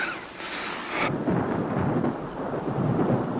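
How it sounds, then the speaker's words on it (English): Thunder rolls in a long, loud, low rumble with rain and a bit of wind, sustained throughout with no voices. "Oh, it's thunder."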